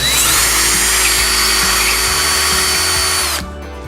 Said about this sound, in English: now I'm going to use my 7/32 bit and start to drill